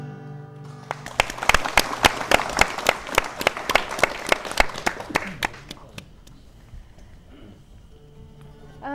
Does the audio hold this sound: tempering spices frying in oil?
no